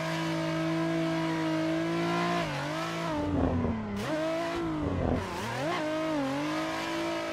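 A racing car drifts on a karting track in the Assetto Corsa video game: a steady, loud engine drone rises and dips in pitch as the revs change, with brief tire squeals.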